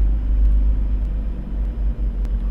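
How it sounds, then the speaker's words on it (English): A car engine, checked with an Autel DS 708 scan tool, is held at a light rev of about 1500 RPM, giving a steady, loud low-pitched rumble close by with only slight dips. "Just give it a little bit of a rev. Keep it there, the RPM about 1500,"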